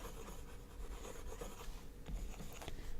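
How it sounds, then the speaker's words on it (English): Erasing a drawing for anime eye coloring produces soft, close scratchy rubbing strokes in an irregular back-and-forth rhythm, quiet and alone. "So let me just erase all this."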